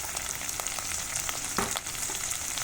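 Tomatoes frying in a pan for Andhra-style sambar, a steady, close sizzle with a brief louder hiss about midway and a few faint stirring ticks, no voices.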